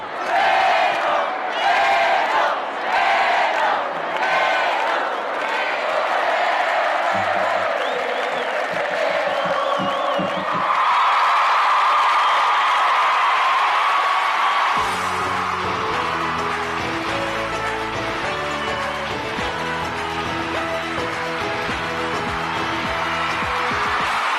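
A packed stadium crowd at a concert chants and cheers in loud, massed waves, joined midway by a thumping band beat and music that carries on under the roaring voices.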